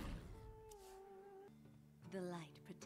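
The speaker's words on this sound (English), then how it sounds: "So, starting with an alley cat." A cat meows from the Alley Cat card in the Hearthstone video game, one drawn-out, close, fairly quiet meow followed by a voice talking.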